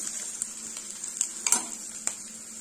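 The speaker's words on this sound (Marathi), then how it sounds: "कांदा इथे हलकासा परतून झालेला आहे" Onion lightly sautéing in a pan makes a thin, steady sizzle, with a few soft clicks and scrapes of stirring scattered through the short stretch, close and quiet with no speech.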